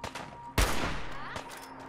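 Gunshots in the post-apocalyptic shooter Fallout 4: a few faint pops, then one loud, close blast with a lingering echoing tail and a softer shot after it.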